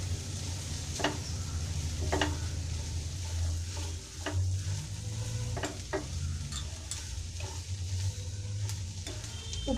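Squid frying in a hot pan for pepper squid with tender coconut, a constant loud sizzle broken by repeated scraping and clicking strokes of a spoon stirring it.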